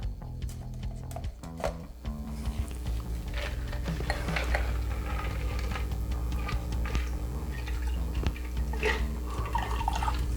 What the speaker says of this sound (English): Okay, now we're just gonna pour that in our glass.